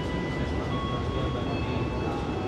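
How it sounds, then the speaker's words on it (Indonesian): A Logawa economy train pulling into Lempuyangan station in Yogyakarta, a low steady rumble with faint tonal hums and whine, moderately quiet and continuous. "kereta Logawa saat ini tiba di kota Yogyakarta dan dilayani melalui stasiun Lempuyangan"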